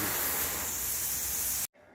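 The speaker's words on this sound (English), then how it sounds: "time to start spraying it down" Water sprays in a steady, loud hiss across a concrete garage floor being rinsed down, continuous for about a second and a half before stopping suddenly.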